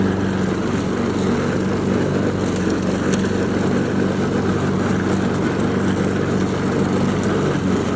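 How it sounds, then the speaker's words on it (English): Lawn mower cutting tall grass in a livestock field, a loud continuous engine drone close by, steady and unbroken throughout with no talk. "So I'm about to mow that."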